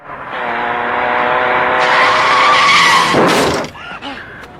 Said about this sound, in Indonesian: dia malah ditabrak oleh sebuah mobil